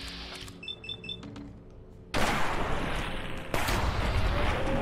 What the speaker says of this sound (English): Damn, explosive shotgun.